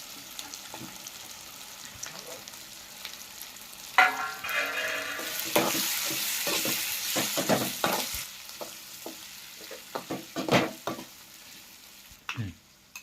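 Drumsticks fry in masala in a home kitchen pan, with a continuous sizzle, a louder burst of spattering midway and repeated scraping stirs and spoon knocks, close up.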